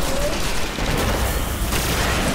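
Grenade blast in the Destiny video game: a dense, loud, continuous roar of explosions mixed with rapid gunfire that fills the whole moment with no pauses.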